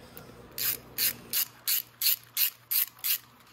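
A ratchet snugs up nuts on the motor mount of a 125cc motorcycle with a 10 mm socket, giving eight crisp, evenly spaced bursts of clicking close by, with no talk.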